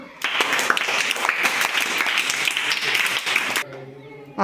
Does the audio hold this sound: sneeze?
no